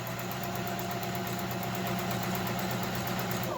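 A sewing machine stitching a fabric face mask, a steady rapid whirring drone with a fine repeating rhythm, close and constant with no one talking.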